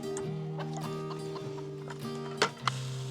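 Backyard chickens clucking close by in a steady run of short calls, with a couple of sharper squawks near the end.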